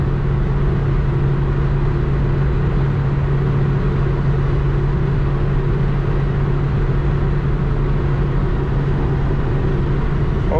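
A 1992 Citroen ZX cruises at 140 km/h on the highway with its engine running hot, giving a constant loud drone of engine and road noise that stays unchanged the whole time.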